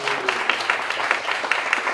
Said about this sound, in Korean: 박수 하시겠습니다. 박수.